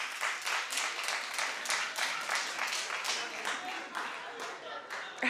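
Studio audience at a daytime TV talk show claps in a fairly steady, moderately loud round of applause that lasts several seconds, with no talk over it.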